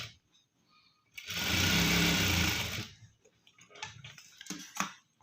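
A sewing machine runs in one loud, steady burst of about two seconds, stitching piping around the round neckline of a blouse, then falls quiet while soft handling noises and light taps follow.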